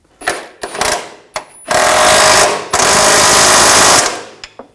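A power tool tightens a nut on a 2007-2013 BMW X5 transmission pan, running in short bursts, then two longer loud sustained whirs, close and alone.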